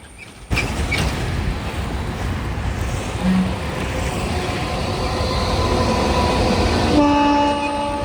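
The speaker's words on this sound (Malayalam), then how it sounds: "ഇതുവഴി വരുന്നത് നമ്മുടെ ഒരു ജി നയൻ ഒരു ഗുഡ്സ് ട്രെയിനാണ്" A freight train rolls past close by at Vadakara, Kerala, with a continuous heavy rumble and wheel clatter, its horn sounding briefly mid-pass and again near the end.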